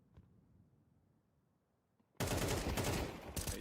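Gunfire in a Counter-Strike match bursts in as a dense, loud stream of rapid shots after a quiet stretch of low background noise, continuing steadily to the end.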